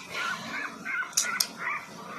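A mother dog and her puppies whimpering indoors, soft whining cries in short bursts with a couple of sharper yips, close by.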